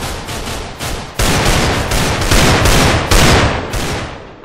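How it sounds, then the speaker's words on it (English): Dense, continuous bursts of rapid gunfire, loud and close, with overlapping volleys and short gaps, like an intense firefight in the game Minecraft. "It's too many gunshots in the place."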